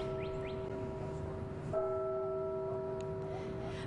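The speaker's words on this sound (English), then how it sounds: "You can hear the bells ringing." Bells ring from the Wilson Hall bell tower on the Converse University campus, sustained tones that hold steadily and are joined by a fresh strike partway through, heard at a distance over steady outdoor ambience.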